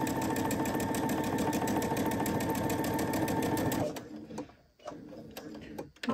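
Sewing machine topstitching along an original seam line, a steady fast mechanical whirr of stitching for about four seconds that then stops, leaving quiet handling noises.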